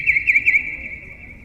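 A bird chirps in a brief run of high, thin repeated notes, then holds a steady piping tone, fairly close and clear.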